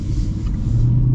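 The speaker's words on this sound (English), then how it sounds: "We're going over the train tracks here, so this will be another chance to kind of test out that suspension comfort." A Lexus IS 500 V8 rolls over train tracks, heard from inside as a steady low road rumble and engine drone that swells slightly toward the end, with no talking.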